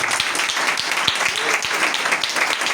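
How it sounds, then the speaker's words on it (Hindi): A church congregation applauds steadily for a few seconds, the clapping dense and somewhat distant. "ज़ोरदार तालियां खुदा की तिलावत के लिए।"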